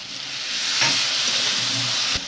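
A splash of water hits a hot pan in a home kitchen, a steady loud hiss of steam and sizzle holding for a couple of seconds with a small clatter near the end.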